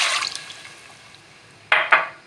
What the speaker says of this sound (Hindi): तो यहाँ देखें मैं पानी डाल चुकी हूँ इसमें